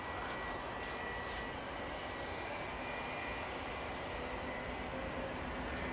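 Ryanair jet engines spooling up for departure at Manchester Airport: a faint, distant, steady whine and rumble under a faint hissy background, with faint tonal lines holding across the whole span.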